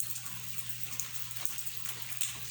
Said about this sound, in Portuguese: Olha o tanto que tá chovendo,